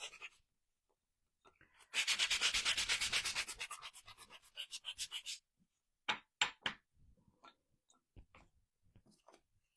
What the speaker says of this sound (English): I like to really sand the edges.